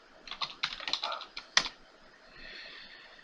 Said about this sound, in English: So we're gonna type in WinR and type in WinVer,